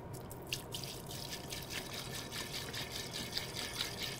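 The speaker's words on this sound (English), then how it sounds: "So we're going to refill the alcohol." Isopropyl alcohol being poured to refill the wash tank of a Dentsply Sirona Primeprint 3D printer, a continuous soft trickling and dripping of liquid, close and fairly quiet.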